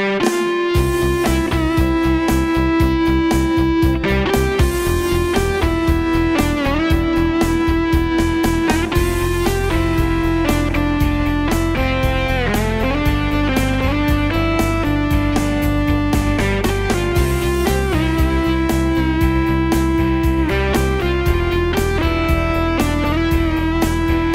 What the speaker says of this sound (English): the default factory SX600 tones sound fuller and richer.